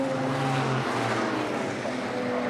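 BMW E30 race cars pass at Pukekohe raceway, a loud continuous engine roar with shifting harmonic drones as they go by; no voices.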